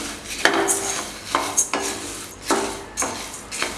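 Coriander seeds dry-roasting in a pan for curry masala powder, with a spoon scraping and stirring through them in repeated rough, raspy strokes and clinks, close and fairly loud.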